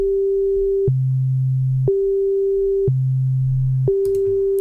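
Pure electronic sine tones of musical notes alternate one after another, a higher note then a lower one, each about a second long and repeated twice before the higher note returns, clean and steady with clicks at each change.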